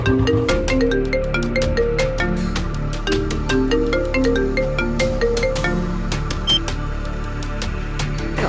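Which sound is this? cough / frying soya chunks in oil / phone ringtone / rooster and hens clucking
phone ringtone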